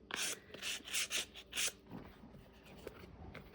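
Several quick rasping strokes of sandpaper on wood in the first half, then quieter scattered scraping and handling noises.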